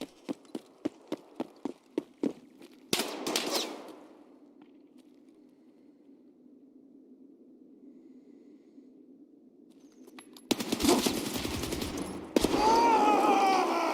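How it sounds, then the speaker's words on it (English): Grenade blast in Escape From Tarkov: a loud explosion booms out after a string of sharp footstep-like clicks, its rumble lingering for several seconds before louder gunfire-like noise and rustling take over. "What a good nade."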